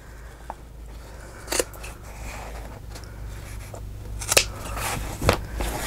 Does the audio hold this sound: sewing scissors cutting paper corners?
yes